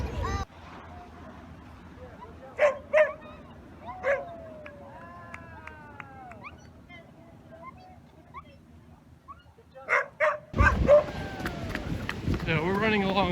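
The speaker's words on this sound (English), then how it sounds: "They're having a lot of fun with dogs here today." Dogs at play on a beach in California, one a large wolfhound, with scattered barks and yips plus whimpering, whiny calls over a low steady wash of surf, some louder barks near the end.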